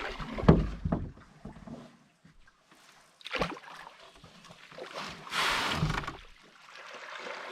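A canoe on a solo fall trip in Algonquin grinds and scrapes onto a sandy lakeshore in rough, uneven bursts, with quiet sloshing and thumps between them.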